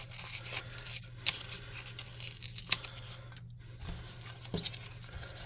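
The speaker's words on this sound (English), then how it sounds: "we'll use some tin foil balls to rough that up" Tin foil crumpled by hand into balls for a tabletop-game rock pedestal craft, with quiet scattered crinkles and a few sharper crackling bursts over a low steady hum.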